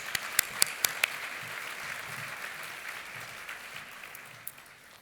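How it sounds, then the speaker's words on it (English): A few sharp, separate claps ring out at first at a hospice fundraising luncheon, then fade into a soft, thin patter of applause that trails off. "Let's take a moment to give them a round of applause"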